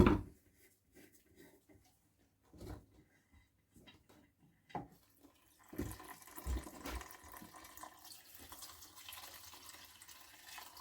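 Oil draining from the sump drain of a Villiers Mk12 engine, heard as a trickling, splashing flow that starts after a few scattered knocks and runs steadily to the end, fairly quiet and close.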